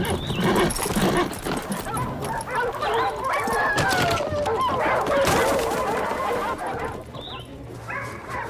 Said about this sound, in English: Hear that? Dogs. In full chase.